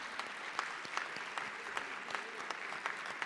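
An audience claps for a teacher at a Teachers' Day event, steady applause from a modest crowd, evenly sustained for a few seconds.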